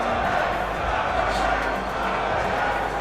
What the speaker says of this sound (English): We have an undernight crowd, undernight chant happening right there.